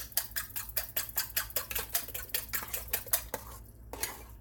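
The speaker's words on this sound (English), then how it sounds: "Make sure you beat these eggs up really," Eggs beaten in a bowl for a sweet potato souffle, a steady run of quick clinking utensil strokes against the bowl, close and fairly loud, with no talk.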